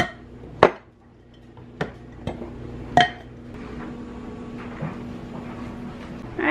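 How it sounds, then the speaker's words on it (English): Dishes being washed in a kitchen sink: a few sharp clinks and clatters of dishes and cutlery, scattered and close, over a steady low background hum. "dishes are done, got a shiny sink"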